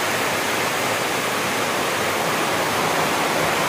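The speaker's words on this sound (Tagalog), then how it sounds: "May tubig na ron oh. Kung galing sa sapa." Steady, dense rush of floodwater flowing from a creek during Typhoon Kristine, loud and continuous, running close by with no voices.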